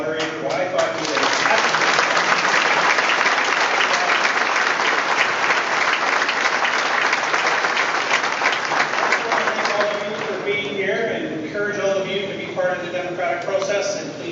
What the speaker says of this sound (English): how about a round of applause for our moderator